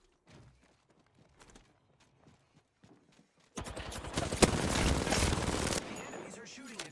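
Rapid automatic enemy gunfire in the video game Apex Legends erupts loudly after a few faint clicks and footsteps, a dense sustained burst of shots lasting several seconds.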